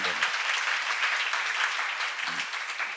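Audience applause at a church seminar, a dense continuous wash of clapping from many hands, close and steady for a few seconds.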